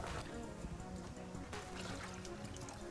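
Water poured from a cup into a peach popsicle mix of sugar and fruit, a faint steady splashing stream lasting a few seconds.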